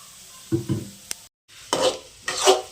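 Onion, curry leaves and peanuts roasting in a pan for poha, with a few short scraping stirs over a soft sizzle, close and fairly quiet.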